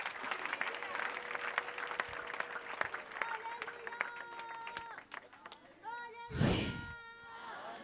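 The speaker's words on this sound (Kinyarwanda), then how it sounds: "Mukomere Imana yacu amashyi." Congregation members clap together at a prayer gathering, busy applause with voices and shouts over it, ending in a loud burst of sound.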